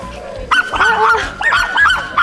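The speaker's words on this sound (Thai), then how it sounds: "ไม่ต้องเห่ากันได้ไหมอ่ะ" Close, loud barking and yipping from a dog at a pet-friendly Thai campground, several quick barks in a row with a voice mixed in.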